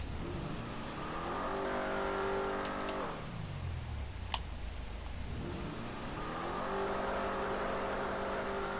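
Truffade Z-Type car engine with a turbo in GTA Online, revving up, dropping away and climbing again, with a thin rising turbo whine near the end; loud and close, no talking.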